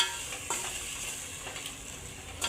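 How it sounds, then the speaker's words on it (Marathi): Fresh green peas frying in a pan, giving a soft, even sizzle with a few light stirring scrapes, close and alone. "ह्याच्यातच वाटाणा टाकून घ्यायचा. फ्रेश ताजा ताजा वाटाणा घेतलेला आहे. चांगलं फ्राय करून घ्यायचं."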